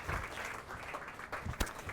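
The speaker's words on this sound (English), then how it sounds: "And as you remember that, give Tessa one more round of applause as she takes her seat." A TEDx audience at Fenway Park in Boston applauds steadily for a couple of seconds, a dense wash of clapping without any voices.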